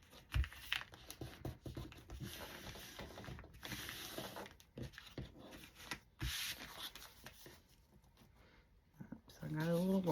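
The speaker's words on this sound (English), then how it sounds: "now I am going to take and put a fold on it" Christmas wrapping paper being folded and crinkled for a junk journal cover, close crisp rustling and rubbing with sharp creases and pauses, someone talking intermittently over it.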